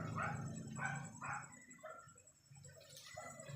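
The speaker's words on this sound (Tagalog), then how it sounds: "Tahol lang ng tahol." Several dogs bark in repeated short bursts, fairly faint and a little distant, with some yipping between barks.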